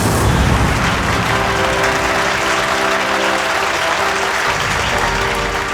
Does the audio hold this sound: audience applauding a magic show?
yes